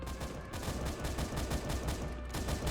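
A continuous stream of rapid weapon fire from the Starbound video game keeps going without a gap, with dense overlapping shots at a steady loud level.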